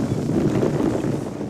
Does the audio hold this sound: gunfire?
no